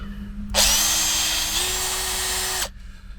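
A Makita power drill runs at slow speed during guy and rotator fitting for a 40 ft tower, a loud steady whir that starts abruptly, holds for about two seconds with a slight pitch rise, then cuts off.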